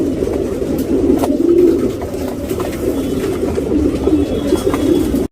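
A male dhooma regdar pigeon coos in low, throaty rolling calls that repeat in a steady rhythm, close and fairly loud against a faint background hum, with no talking.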